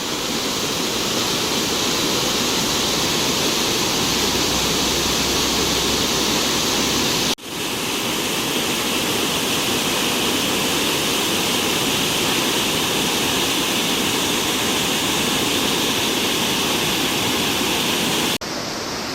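Pattathippara Waterfalls roars with a steady, loud rush of water that stays constant throughout, with no voices.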